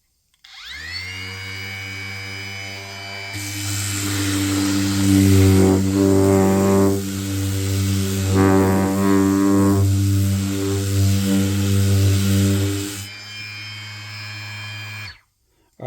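A Ridgid power sander fitted with sandpaper runs at its lowest speed setting, a steady, quiet motor whine with a constant hum that swells slightly in the middle, then stops.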